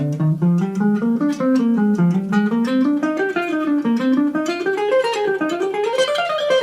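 Picked electric guitar notes in a quick, even run, climbing across three strings and turning back down in repeated economy-picking sequences, played alone, clear and close.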